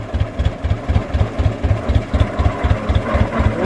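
A 1922 Rumely 16-30H OilPull tractor engine runs steadily with a slow, heavy, regular low thump, close and loud, each beat evenly spaced over a constant mechanical rumble.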